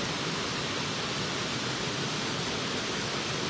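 A river running through a residential neighborhood in Jiquilpan gives a steady, broadband rushing of flowing water, continuous and even throughout, with no voices.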